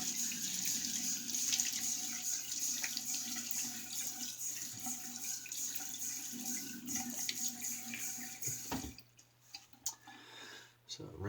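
Water pours from a tap as a razor is rinsed beneath it, a steady close splashing rush that breaks off near the end into quieter drips and handling sounds.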